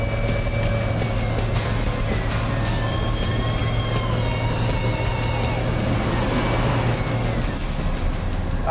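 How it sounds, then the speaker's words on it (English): A Cummins diesel engine in a Ford crew cab built on a Dodge chassis, running loud and steady under load with a rising turbo whine and a continuous road roar; a voice speaks briefly over it. "Got the turbo spooled up."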